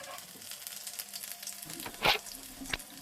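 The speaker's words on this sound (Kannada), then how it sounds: "ಫಸ್ಟು ಒಗ್ಗರಣೆ ಹಾಕ್ಕೊಂಡೆ, ಒಂದು ಒಣಮೆಣ್ಸಿನ್ಕಾಯಿ ಹಾಕ್ಕೊಂಡು ಕರಿಬೇವು, ಈರುಳ್ಳಿಯನ್ನು ಸ್ವಲ್ಪ ಫ್ರೈ ಮಾಡಿಕೊಂಡು" Dry chilli, curry leaves and onion fry in hot oil as tempering for a brinjal curry in a home kitchen, a steady soft sizzle broken by a sharp hiss and a brief clatter of stirring.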